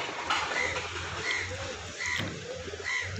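A Madrasi pigeon in a Mumbai loft coos softly, repeating a few times over steady background noise.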